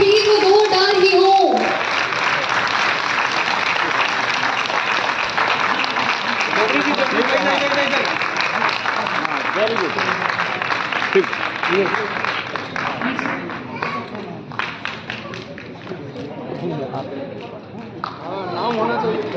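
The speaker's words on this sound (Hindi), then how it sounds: "अब मैं अभिनंदन करते हुए एक बार जोरदार तालियां एवरीवन।" An audience at a public evening event bursts into loud applause that sustains for several seconds, then thins into crowd chatter and scattered clapping.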